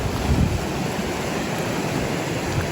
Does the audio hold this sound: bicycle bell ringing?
no